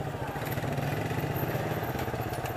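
Steady engine drone of motorcycles and tricycles on a street in Tondo, Manila, a continuous near-field rumble with clattering mechanical texture and no voices.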